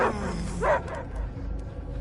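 Dogs (called mutts) bark and yip in the Guardians of the Galaxy video game, a couple of sharp yelps near the start and middle over a low rumbling background, short and moderately loud.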